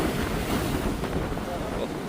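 Strong sea waves crash on rocks along a rocky fishing shore under heavy rain and violent seas, a dense, continuous roar of surf and wind buffeting the microphone.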